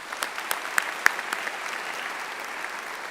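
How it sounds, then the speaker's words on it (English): A large commencement ceremony crowd applauds steadily, a dense wash of clapping heard from some distance with a few sharper claps standing out. "Please join me in giving a round of applause to the FAU ROTC for the presentation of colors."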